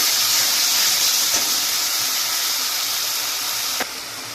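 Fried prawns poured into a pan of spices for a prawn and banana-stem curry sizzle with a steady, bright hiss, broken by a couple of soft clatters near the end.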